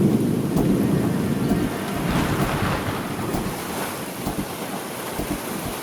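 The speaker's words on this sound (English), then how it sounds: "the looming threat of a thunderstorm coming is really intimidating" Thunder rolls over steady rain during an approaching thunderstorm in the Brazilian jungle: a deep, continuous rumble swells and fades beneath a constant wash of rainfall, with no voices.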